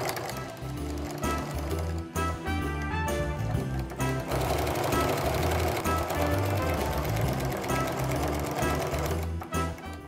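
A sewing machine stitches in the ditch along a quilted mug rug, running in fast, even bursts of rapid needle clatter with brief pauses, close by and alone.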